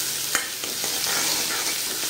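Chopped large onions sautéing in a pan for mutton gravy, a steady close sizzle with brief scraping stir clicks from a spoon, no voices.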